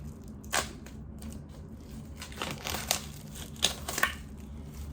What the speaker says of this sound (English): So let's go ahead and unwrap it.